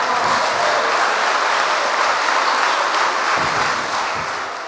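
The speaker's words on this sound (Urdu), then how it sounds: "تالیوں کی گونج میں استقبال کیجیے گا محترمہ فرح اسد" A large audience claps loudly and continuously to welcome guest Farah Asad at a televised event, sustained applause fading slightly at the close.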